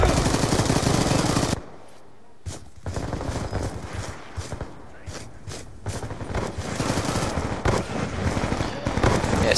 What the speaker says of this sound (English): Just a Beretta 23. It's a 3-round burst pistol